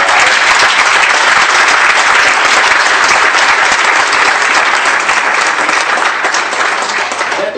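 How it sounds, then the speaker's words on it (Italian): Audience at an anti-mafia meeting in Cadorago breaking into loud, sustained applause, a dense continuous roar of many clapping hands filling the room with no gaps. "io penso che l'applauso più grande vada a voi,"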